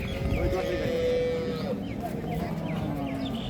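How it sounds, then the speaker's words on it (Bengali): A cow moos at a busy cattle market near Cumilla, a low drawn-out call rising over crowd noise and nearby voices. "এটা তো সার বাছুর মানিক ভাই"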